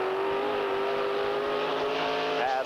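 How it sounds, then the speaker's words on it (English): A 1981 sprint car on a qualifying run at the Syracuse Super Nationals, its engine a loud, steady high-pitched roar throughout, rising slightly in pitch near the end. "Jim Champagne of Clay, New York, completing his run in the 8 ball sprinter."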